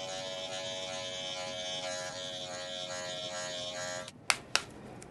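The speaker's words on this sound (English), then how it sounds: "I now have my clipper completely open, using only the blade itself." An electric hair clipper buzzes steadily during a barber's haircut, with its blade lever fully open. The close, continuous hum runs for about four seconds, then stops, and two sharp clicks follow.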